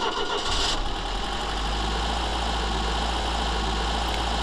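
A car engine recording reworked with granular synthesis drones steadily, a dense, loud rumbling texture with a brief brighter hiss near the start and no speech.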